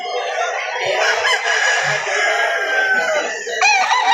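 Chickens, including young pullets, cluck and squawk together in a busy flock nearby at a poultry market, with a rooster's crow rising among the chatter.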